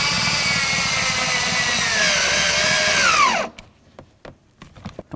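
A power drill drives screws into the door handle area of a 1988–2002 GMC Sierra 1500 door: a loud, close, sustained whine for about three seconds that drops in pitch as it stops, followed by a few scattered clicks and handling knocks.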